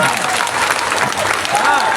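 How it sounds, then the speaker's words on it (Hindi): Loud, continuous applause from a large crowd at a political speech in Odisha, dense clapping filling the whole stretch with crowd noise mixed in. "जोरदार ताली मारबा है।"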